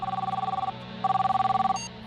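A telephone in an animated cartoon rings in two electronic bursts, each a rapid trilling pulse, loud and close over a low background hum.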